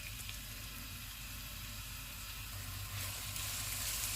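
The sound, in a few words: onions sizzling in hot oil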